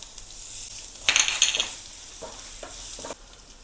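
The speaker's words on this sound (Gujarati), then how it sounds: "અડદની દાળ બ્રાઉન થાય ત્યાં સુધી સોતરી લેશું એ છે હિંગ ચાર કળી વાટેલું લસણ" Urad dal fries until brown with asafoetida and crushed garlic, giving a soft continuous sizzle with a burst of bright scraping and a few light knocks as it is stirred.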